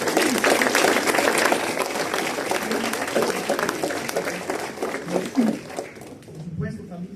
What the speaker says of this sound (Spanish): a quien le voy a pedir que nos regalen un fuerte aplauso.